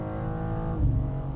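A 2025 BMW M2 sports car is driven fast through curves, its engine a steady close drone that swells briefly as it pulls harder, with no talking.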